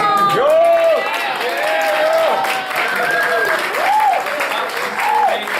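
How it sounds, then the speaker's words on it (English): Audience applause and cheering at a Broadway cabaret fill the clip, a dense steady roar with a voice calling out over it in rising and falling tones. "Ladies and gentlemen, give another round of applause"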